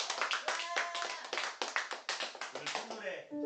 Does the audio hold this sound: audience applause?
yes